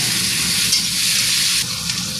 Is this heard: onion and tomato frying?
yes